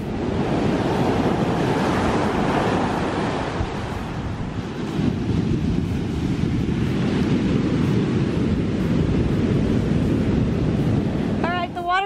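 Ocean surf rolls and washes onto Moonstone Beach on the California coast, a loud continuous roar mixed with wind buffeting the microphone, and a voice cuts in right at the end.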